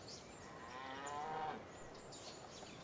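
Cattle mooing in Civilization V: a single drawn-out, bellowing moo that swells and fades over a soft game-ambience bed, with no talking.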